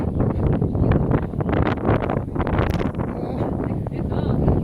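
Strong wind on a tower buffets the microphone in loud, steady gusts that roar throughout, with faint voices mixed underneath.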